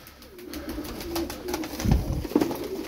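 Tumbler pigeons, Turkish play birds, coo softly and repeatedly nearby, low throaty calls rising and falling against a faint steady background hum.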